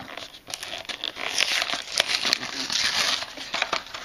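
Crinkling plastic and cardboard packaging is torn open to unbox a Majorette Volkswagen 1/64 set of Beetle and two Kombi toy cars with caravans, a close, fairly quiet run of irregular rustling crackles and brief tearing sounds.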